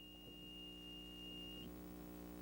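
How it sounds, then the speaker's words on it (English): Centrifuge alarm buzzer emitting a single steady high-pitched electronic tone that cuts off abruptly after about a second and a half, faint over a low machine hum. "He has to press a button to shut off the alarm."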